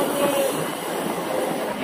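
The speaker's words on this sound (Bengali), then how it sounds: "আমাদের ট্রেন উলুবেড়িয়া ছেড়ে দিল।" A local train pulls out of Uluberia station, its wagons rolling with a steady rumble and a faint thin wheel squeal near the start, heard from on board with no voices.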